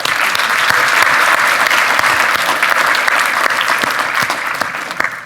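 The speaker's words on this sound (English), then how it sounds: "Can we all just give a huge round of applause for Brad?" A room full of people applauds continuously at a live event, a dense steady wash of clapping that stays loud close by, with no speech over it.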